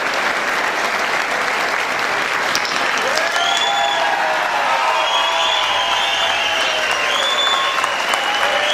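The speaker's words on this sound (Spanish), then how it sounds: "Un aplauso grande para Pancita" Audience applause at a live concert by a Latin folk group, steady dense clapping from a large crowd with some cheering and whistles, sustained and fairly loud throughout.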